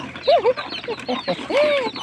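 Chickens cluck and squawk close by in short, uneven bursts.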